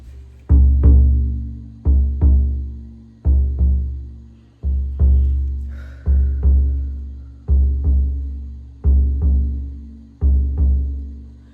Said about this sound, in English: Your mother's heartbeat.